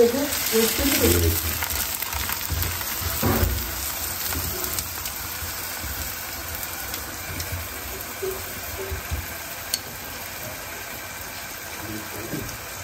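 Lachha paratha frying in ghee on a hot pan gives a steady low sizzle throughout, with a few brief louder crackles and bumps near the start as it is flipped; no one speaks.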